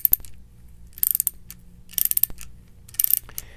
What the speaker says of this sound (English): Continue ratcheting and advancing the flaring cone until the internal breakaway clutch disengages.